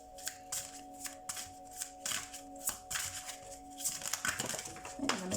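Tarot cards shuffled by hand in repeated riffling bursts, close and fairly quiet, with a steady tonal hum in the background.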